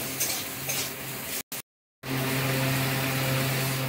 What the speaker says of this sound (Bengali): এবার দিয়ে দেবো আম দিয়ে বেশ খানিকক্ষণ কষিয়ে নেব একটু।